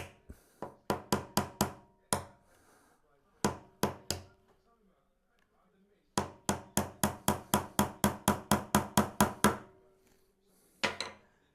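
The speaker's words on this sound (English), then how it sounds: "Just try and keep it nice and tight as you're hammering it together." Hammer blows driving nails into a wooden National beehive roof ring out in quick bursts, several rapid runs of strikes separated by pauses, loud and close.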